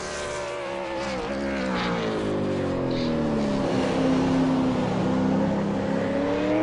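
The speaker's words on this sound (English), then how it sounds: "we've got Sean Kelly, who's on a lap at the moment. Got 3 corners to go" A V8 Supercar at Sonoma Raceway drives a lap with its engine note loud and steady throughout, the pitch rising and falling through gear changes as it takes the final corners.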